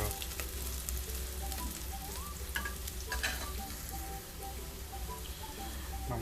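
Beef sautés with kanthari chilies in a pan for a Kerala beef varattiyath, giving a steady close sizzle broken by stirring scrapes and spoon clinks, with no voices.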